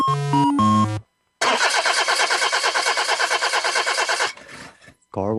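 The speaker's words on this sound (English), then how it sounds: "Car won't start?" A car engine cranks over and over in a steady, rapid rhythm for about three seconds without catching, loud and close, before it cuts out. Brief musical tones come before it and a voice follows it.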